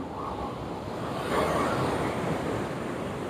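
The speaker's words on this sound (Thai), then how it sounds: "เสียงคลื่นดังไหมคะเพื่อน ๆ" Waves roll onto a Phuket beach in a steady broad roar that swells slightly midway, heard with wind noise against the microphone and no voices.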